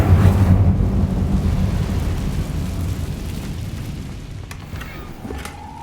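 A heavy fire-spell blast from the Incendio charm in Hogwarts Legacy erupts as a deep rumbling boom that slowly fades, with faint crackles toward the end.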